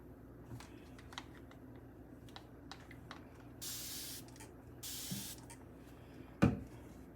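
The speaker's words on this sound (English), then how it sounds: "to put some spray on this" Two short hissing bursts of spray hit a fine abrasive razor hone, each about a second long, amid quiet handling clicks and a sharp knock near the end.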